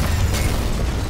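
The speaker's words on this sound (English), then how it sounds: "The explosion was not as big as I wanted it to be" A broad, roaring blast fills the space as an explosive charge detonates in Dead Space (2023), a dense burst of noise that holds loud through the whole moment with no voices over it.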